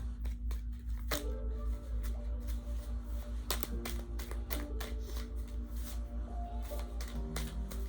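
A deck of cards riffles and flutters in a few quick bursts of shuffling, close by, over a low steady hum with no talking.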